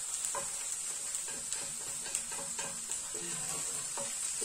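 Onion frying in a pan, a steady crackling sizzle with soft stirring and scraping of the pan running throughout, close and even, with no talk.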